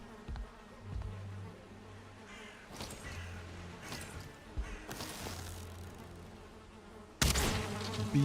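Bees in the Valheim video game drone steadily around a beehive, close and continuous, with scattered thuds and a loud burst of noise near the end.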